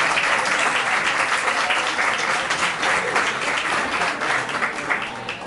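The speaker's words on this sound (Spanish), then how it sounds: "un fuerte aplauso y empezamos" Steady, full applause from a café audience at a Pint of Science talk in Seville, a dense wash of clapping that holds at an even level for several seconds without talk over it.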